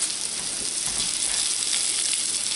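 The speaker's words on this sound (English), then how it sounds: "I hear something sizzling" Steady, hissing sizzle of bacon frying in a pan, constant and close with no pauses.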